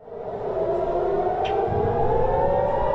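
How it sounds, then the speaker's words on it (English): A civil defense alert siren wails steadily at a distance in northern Israel at nightfall, a sustained rising tone that holds without pause. "Alert sirens ringing once again in northern Israel as night falls"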